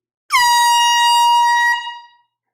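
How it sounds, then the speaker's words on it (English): A single loud air horn blast sounds at a live record sale, a sustained harmonic tone holding steady for about a second and a half before tapering off. "Air horn required for this purchase."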